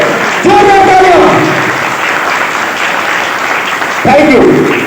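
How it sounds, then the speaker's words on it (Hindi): An audience at a business products presentation claps in a steady, sustained wash of applause throughout, while a voice speaks loudly over it at the start and again near the end. "तो जोरदार तालियां एक बार एसलेपियस वेलनेस प्राइवेट लिमिटेड के लिए, जोरदार तालियां"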